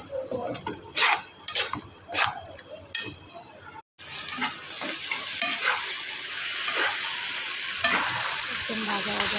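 Cow brain fries in a wok: a spatula scrapes and clatters against the metal in a few quick strokes, then a steady, close sizzle of hot oil takes over.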